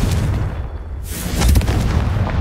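Confringo fire spell explosion in Hogwarts Legacy, a loud booming burst with a roaring rumble that swells and fades over a couple of seconds.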